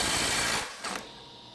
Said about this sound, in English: we're going to start with the oldest tool, which is the Milwaukee M12 Stubby at 250 foot-pounds